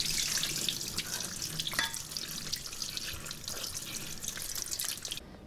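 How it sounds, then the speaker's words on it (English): Cold running tap water streams over cooked pork skin in a sink, a steady close splashing wash with scattered drips, running alone without talk. "we're going to start rinsing it with cold water to let it cool down"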